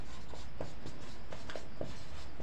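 Pen or chalk writing out a maths problem: soft, steady scratching strokes, close and continuous, with faint background noise and no clear speech.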